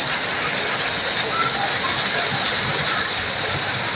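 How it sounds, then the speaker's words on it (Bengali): Steady heavy rain pours down outdoors after a long hot spell, a loud continuous hiss and patter of drops on surfaces that stays even throughout with no voices. "এতদিন পর আমরা বৃষ্টির দেখা পেলাম।"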